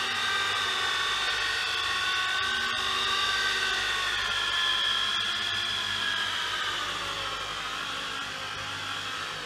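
A machine polisher buffs car clear coat with compound at low RPM, producing a steady, close whirring hum that wavers slightly in pitch and fades a little toward the end.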